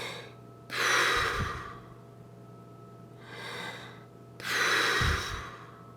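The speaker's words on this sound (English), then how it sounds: "I call that a soft O breath." Soft O-shaped breaths taken as trumpet breathing practice, two full airy inhales and exhales with a fainter one between, close to the mic and alone.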